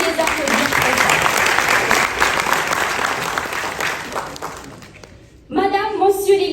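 An audience at a national assembly of Senegalese students in France applauds steadily for about five seconds; the clapping fades, and a voice then begins speaking.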